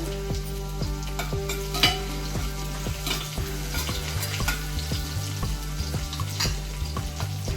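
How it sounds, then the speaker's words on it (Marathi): Four or five garlic cloves frying in a pan for a dried-shrimp radish curry, a loud, steady close sizzle with a repeating rhythmic stirring scrape, and no speech. "आता आपण लसूण टाकणार चार पाच पकड्या घेतलेल्या आहेत मी"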